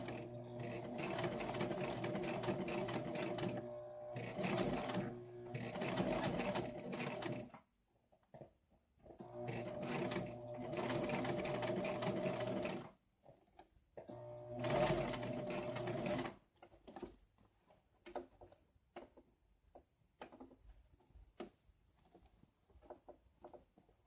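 A sewing machine runs slowly while stitching a patch onto work pants. Several separate bursts of close, even whirring are broken by short pauses, and quieter clicks and handling noises follow toward the end.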